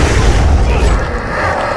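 Enemies exploding in the Dying Light video game: a loud, heavy boom with a rumbling tail that fades over about two seconds, with no talking over it.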